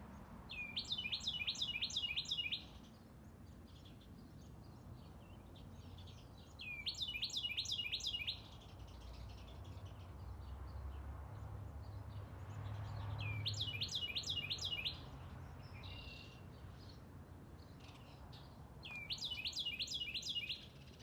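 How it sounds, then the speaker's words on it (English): A tiny bird, about the size of a maple bud, repeats a loud, high trilling song in short bursts separated by pauses, clear over a faint outdoor background. "Tiniest birds can make the biggest noise."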